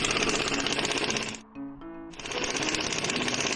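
A car transmission's bell housing bolts being loosened with a power impact tool: loud, rapid rattling hammering that drops out briefly in the middle to a lower whirring, then resumes at full strength.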